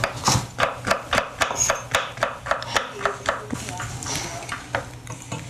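A knife julienning carrots on a cutting board, a run of quick, crisp chopping taps in an uneven rhythm, close and fairly quiet, with kitchen clatter around it.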